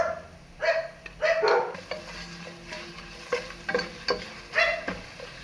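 A dog barks several times in short, sharp bursts, some paired, over a low kitchen hiss and clatter.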